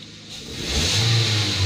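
A Nissan's HR15 engine, which is losing power, revs up from idle, rising to a steady loud roar close by, with no talking.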